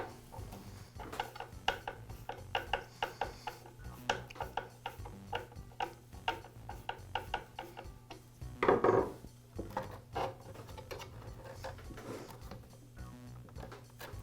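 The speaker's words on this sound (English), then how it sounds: "I'll begin by pulling the guard back and loosening the front guard screw" Scattered clicks, taps and small metallic rattles come from pulling back the blade guard and loosening the front guard screw on a DeWALT miter saw, quiet and close, with a brief louder scrape midway.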